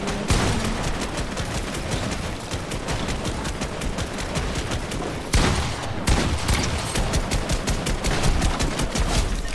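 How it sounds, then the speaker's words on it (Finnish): Rapid gunfire from the video game Fortnite: dense, continuous bursts of overlapping shots that crackle steadily throughout, with a brief lull near the middle before the firing resumes just as heavily. "Joku ampuu."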